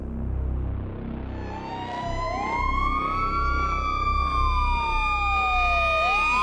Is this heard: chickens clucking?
no